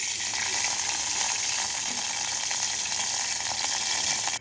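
Oil crackling in a hot cooking pot, a continuous bright hiss with faint popping that holds steady at moderate level and cuts off abruptly at the end, no voices.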